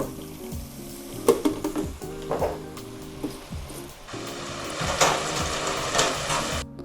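French fries for duck fat fries deep fry in a fryer basket, starting with sharp metallic clatters and bubbling, then settling into a dense, steady sizzle that grows louder near the end.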